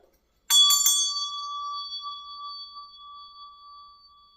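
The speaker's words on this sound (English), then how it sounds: "I'm going to ring my meditation bell" A meditation bell is struck once after a brief silence, giving a bright metallic ring with a few quick overlapping strikes at the start, then a long, clear sustained tone that slowly fades, alone and close.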